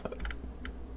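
Computer keyboard typing, a few quick distinct key clicks in a short burst and then one more tap, close and fairly quiet, with no talk.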